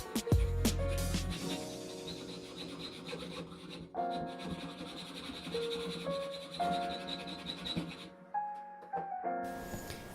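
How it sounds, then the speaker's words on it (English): A cheap screwdriver clamped in a vise being worked with a file and then a hacksaw, giving steady rasping strokes that repeat close by with a rhythmic scraping texture throughout. "I started the cut with a file and then went over it with a hacksaw."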